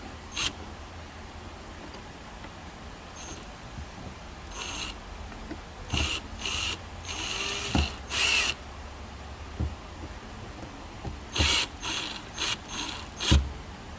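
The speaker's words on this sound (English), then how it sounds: "Start the screw." Screw being driven into a standoff on a circuit board, a series of quick ratcheting clicks from the driver in short bursts with pauses between, close and fairly faint.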